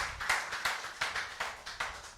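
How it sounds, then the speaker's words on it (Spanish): A church congregation claps together during a Spanish and Papiamento service, a steady rhythmic beat of hand claps at moderate distance with no talking over it. "¿Cuánto puede darle un fuerte aplauso a Dios?"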